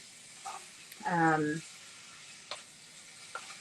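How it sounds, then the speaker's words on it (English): An ingredient sizzles in hot oil while cooking kati roll filling, a soft, steady frying hiss running throughout, with a voice briefly murmuring over it. "I'm going to put that into the oil, and I'm going to let that sizzle a little bit."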